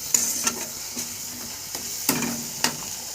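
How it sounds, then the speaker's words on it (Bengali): A thick spice gravy for a chickpea and cabbage dish fries in a pan, with a soft sizzle under a handful of sharp, spaced spatula scrapes against the pan. "এইভাবে ভালোভাবে কষিয়ে নেব।"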